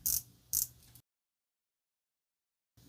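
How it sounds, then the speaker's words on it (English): A titanium watch bezel being rotated gives two sharp, close ticking clicks about half a second apart, followed by silence. "Ooh, nice ticky, snappy kind of bezel feel there."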